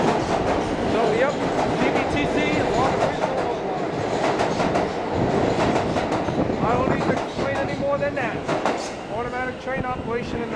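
A New York subway train runs along the track, its steady rumble and rhythmic clickety-clack of wheels filling the whole stretch, with faint squeals and a voice briefly talking over it.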